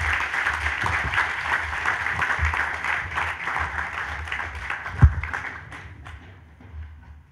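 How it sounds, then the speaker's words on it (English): Audience applauding a speaker at a film education event, steady moderate clapping that thins out and fades toward the end. "I'm going to give a round of applause for Cheryl Boone Isaacs."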